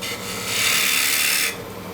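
A woodturning gouge cutting a thin-walled bowl on a spinning lathe, a hissy shearing rasp that swells for about a second and then eases off, close and steady with no talk.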